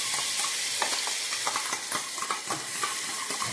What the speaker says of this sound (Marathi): आणि त्याला फ्राय करून घ्यायचं मस्तपैकी